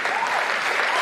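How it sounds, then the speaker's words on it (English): Steady, dense applause from a university lecture audience at an alumni lecture event, a continuous even wash of clapping filling the hall. "Please give me a big round of applause."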